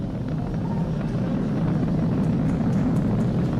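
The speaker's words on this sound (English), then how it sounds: "Vehicle is supersonic. We've exceeded Mach 1 on the Falcon 9." A SpaceX Falcon 9 rocket in flight roars as a continuous broadband rumble, steady and moderately loud, with no voices present.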